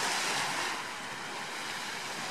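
Steady wash of sea surf at Kokini Hani beach on Crete, a continuous broad hiss of breaking waves with some wind, fairly soft and uninterrupted, with no voices.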